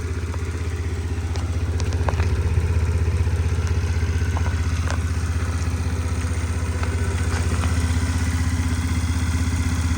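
A Suzuki Lets 5 fuel-injected four-stroke scooter engine idles steadily with a low, bassy thrum and faint mechanical clatter, recorded close and continuous throughout.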